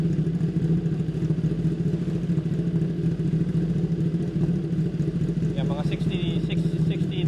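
A Kawasaki ZX-10R sport bike fitted with an aftermarket exhaust idles in a steady, loud, continuous low rumble, with a brief higher chirp near the end.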